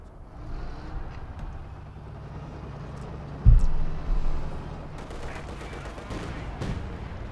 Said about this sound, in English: Panther barrage again.